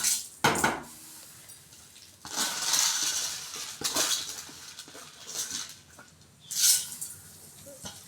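Urad dal tipped into hot oil in a cooking pan for pudina chutney, with scattered clinks and scrapes, then bursts of crackling sizzle that swell and fade in separate waves.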